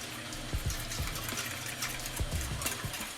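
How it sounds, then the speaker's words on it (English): Boiling water running and splashing steadily into a pot, a continuous pouring rush with a few soft clinks and knocks. "Adding boiling water"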